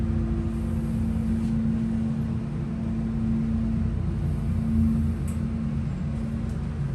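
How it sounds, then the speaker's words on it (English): The motor of a vintage Dover hydraulic elevator in a department store runs as a steady, moderately loud low hum with a constant tonal drone and no breaks. "Wow, I absolutely love that motor."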